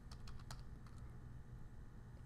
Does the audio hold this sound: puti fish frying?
no